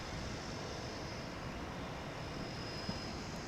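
A jet airliner departs from DFW International Airport in pre-dawn light, heard as a steady, distant broadband roar with a high whine on top, holding even throughout with no talking.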